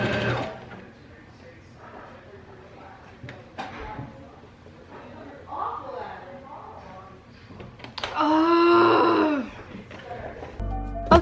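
A home sewing machine runs in a short, steady burst while stitching patchwork fabric for a top, following a stretch of indoor talking and handling noise.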